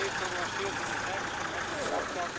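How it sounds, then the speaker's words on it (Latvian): A fire truck idles parked outside a clinic in Sigulda, Latvia, its low steady engine hum running continuously beneath people talking nearby. "Te ir ugunsdzēsēju mašīna"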